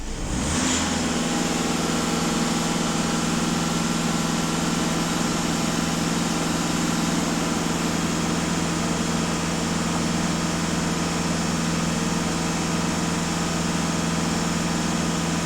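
A Skoda 2.0 TDI diesel engine, one with frequent DPF regeneration issues at over 400,000 km, holds a steady raised speed of about 2500 rpm after a quick rev-up, droning loud and close.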